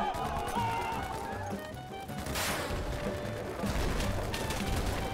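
Gunfire in the mobile shooter Battlefield Mobile, scattered bursts of shots and impacts amid ongoing battle noise, moderately loud and fairly continuous, with no clear talk.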